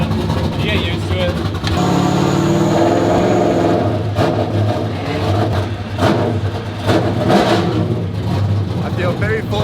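A loud drift car engine revving and idling roughly nearby at a drift event, with crowd chatter and voices talking over the steady engine roar.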